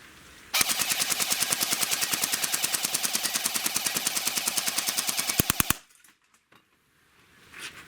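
A Barra 400e electric air rifle fires full auto until empty, a rapid, evenly spaced burst of about fifty sharp cracks lasting roughly five seconds, then stopping abruptly into near silence.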